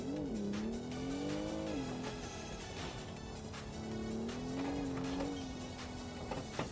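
A car in an off-road enduro racing video game accelerates at full throttle, its engine note steady and rising with brief tire squeal, loud and continuous with no talk over it.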